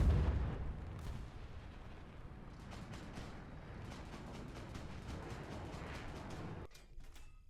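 A T-55AMD-1 tank cannon fires in War Thunder, a heavy boom at the start followed by rumbling battle ambience and distant crackles, with the noise cutting out near the end.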